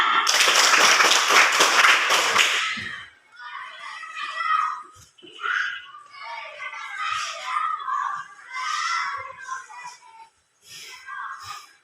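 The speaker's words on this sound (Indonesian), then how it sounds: "Tepuk tangan." Children in a classroom burst into loud, rapid hand clapping for a few seconds, then it stops and scattered children's voices and light chatter follow at a lower level.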